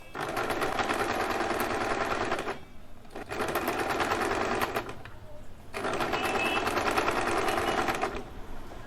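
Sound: sewing machine stitching doll dress fabric

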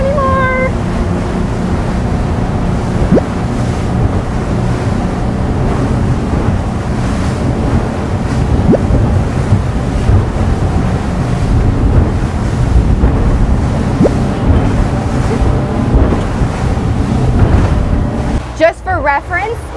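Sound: ocean waves and wind while driving a boat in rough seas

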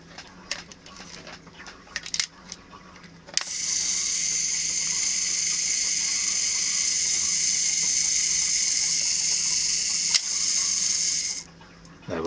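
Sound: camera self-timer mechanism running

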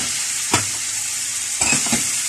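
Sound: chicken breasts frying in a pan

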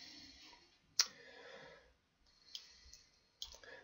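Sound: computer mouse clicking in simulation software

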